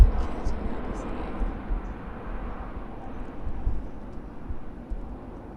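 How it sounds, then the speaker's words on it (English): A distant airplane drones overhead in a low, steady rumble that swells slightly and fades, heard from a backyard in Florida. "It's a plane."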